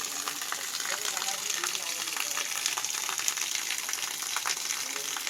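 A constant rushing roar of falling water from the Payappullu waterfall between Pandikkad and Karuvar, fairly distant and even, with a faint crackling texture throughout.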